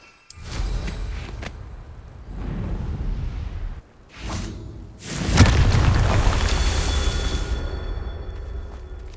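Confringo blasting spell explosions in Hogwarts Legacy: a string of loud booming blasts with whooshing bursts and long rumbling tails, the biggest one after a brief pause midway, ringing out with no talking.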